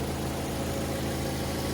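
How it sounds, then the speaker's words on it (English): A 2008 Mazda 3 s Grand Touring hatchback engine idles steadily and evenly, a smooth low hum with no breaks or irregular knocks. "nice and smooth running engine, no odd noises or vibrations"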